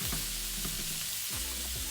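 Steak sizzles in a pan with a constant, close frying hiss, while a low clunking and stirring of cookware recurs underneath.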